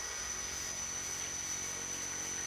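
Model airplane propeller motor running at minimum throttle during prop balancing, giving a steady, even drone with a thin high whine, unbroken for the whole stretch.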